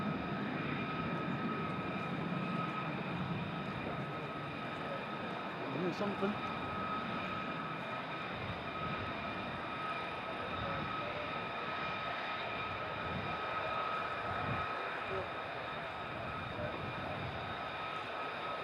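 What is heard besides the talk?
F-15 fighter jets at RAF Lakenheath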